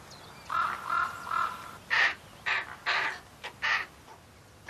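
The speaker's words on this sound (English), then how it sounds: "High on the rock walls, many pairs of ravens already have young chicks." Ravens calling from a rocky breeding cliff: a run of hoarse, repeated croaks and caws, several in quick succession, moderately close and clear against a quiet background.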